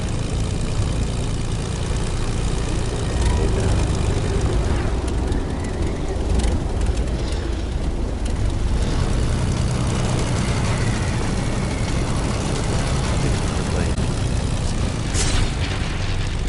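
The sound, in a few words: airplane flying and falling in Fortnite video game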